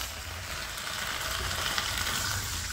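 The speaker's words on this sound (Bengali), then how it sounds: "এঁচোড়টা মশলার সঙ্গে একটু কষিয়ে নেবে।" Jackfruit being sautéed with spices in a pan gives off a steady, close sizzle with light stirring scrapes, continuous and unbroken throughout, no voices.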